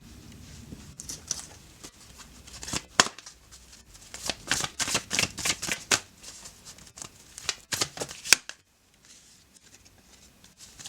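Tarot cards being shuffled by hand: repeated close, crisp riffling and flapping bursts in quick succession, then a near-silent stretch at the end.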